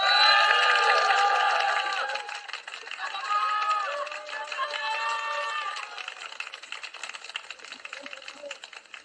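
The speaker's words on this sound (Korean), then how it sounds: "큰 박수 부탁드립니다." An audience at a Korean political rally applauds loudly as party figures step to the front, the dense clapping strongest at first, then fading and thinning under a speaker's voice.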